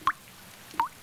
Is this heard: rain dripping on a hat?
yes